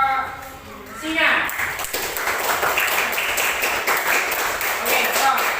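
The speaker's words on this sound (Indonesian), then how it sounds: "Tepuk tangan buat kelompok singa" A classroom bursts into applause for the lion group, a dense burst of many hands clapping that starts after a brief spoken moment and carries on steadily, loud and close.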